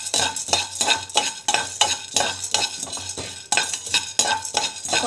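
Repeated scraping strokes of a utensil stirring ingredients being dry-roasted in a pan for a pregnancy diet recipe, a steady rhythmic series of close, fairly loud scrapes over a faint sizzle, with no talking.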